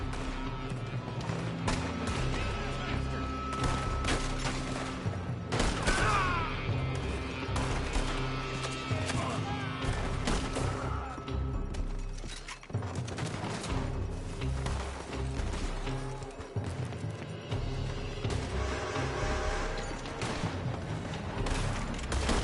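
Gunfire in Red Dead, dense repeated shots and bursts echoing across an outdoor gunfight with a building, nearly continuous throughout with occasional voices shouting over it.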